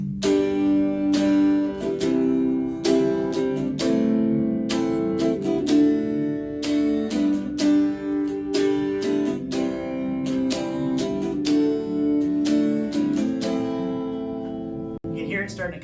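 Four guitar chords strummed one after another, including a C shape, with repeated strums ringing steadily and loud throughout, alone with no talking.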